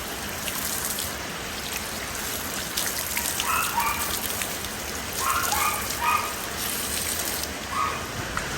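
Steady rain pours down outdoors in a continuous hiss, with a few brief chirps faintly above the wash and no voices.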